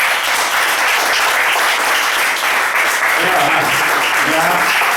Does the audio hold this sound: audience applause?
yes